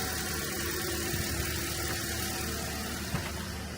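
A 2010 car with 213,000 miles idles on its own without throttle: a quiet, steady low engine hum with a constant even rumble and no talking.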